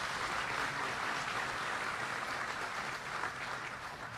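An audience applauds steadily and loudly throughout, a dense, continuous clapping at a New Jersey governor's FY 2022 budget signing event.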